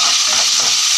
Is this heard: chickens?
no